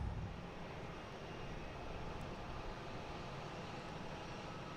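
American Airlines Embraer E175 airliner departing Boston Logan for LaGuardia, a steady broadband jet engine roar that holds loud and even throughout, no voices over it.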